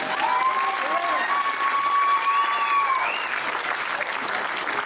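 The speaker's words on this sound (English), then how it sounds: "Let's give a round of applause." Theater audience applause at a community talent show, a full, continuous wash of clapping and some crowd noise with a faint voice or whistle-like tone over it, steady for the whole stretch.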